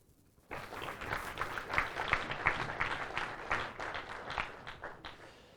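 Audience applause at the closing ceremony of an international physicists' tournament starts abruptly and continues as moderate, uneven clapping, with some louder individual claps standing out before it gradually fades.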